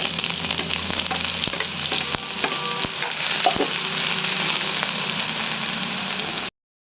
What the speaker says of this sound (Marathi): पेस्ट टाकून द्यायचे कांदा आणि लसण चांगल्यानं तळू द्यायचा